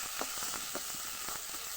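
Onion and garlic fry in hot oil for dal, a steady soft sizzle with small crackling pops and occasional stirring scrapes, heard fairly quietly and with no talk.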